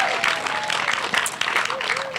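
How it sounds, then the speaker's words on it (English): Applause from a school crowd at an elementary school ribbon cutting, a steady dense wash of clapping with some voices mixed in. "Let's give that a round of applause."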